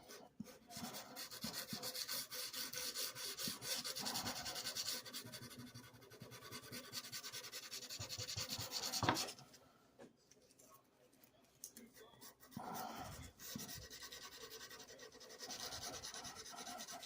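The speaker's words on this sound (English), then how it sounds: "This is 400 grit sandpaper." Guitar frets rubbed with 400 grit sandpaper, a close, continuous rasping scrub in back-and-forth strokes, pausing briefly midway before resuming.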